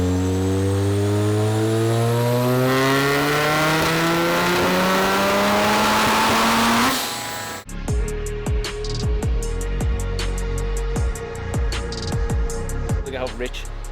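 A boosted rotary-engined Corvette runs on a dyno at 20 PSI, its engine note climbing loudly and steadily for about seven seconds before cutting off to a rough, lumpy idle with sharp pops and crackles.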